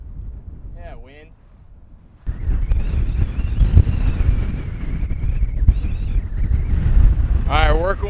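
Wind gusting across an outdoor disc golf course, a steady roaring rush buffeting the microphone after a quieter start, with brief voices and a short whistle-like chirp over the noise.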